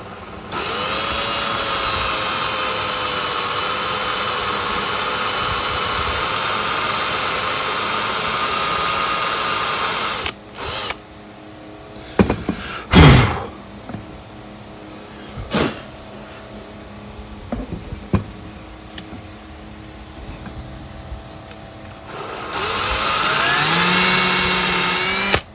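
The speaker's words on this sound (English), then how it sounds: "let's drill this sprue out with our step drill" A power drill with a step bit whines loudly and steadily drilling out a plastic sprue, stops with scattered clicks and knocks from handling, then whirs up again.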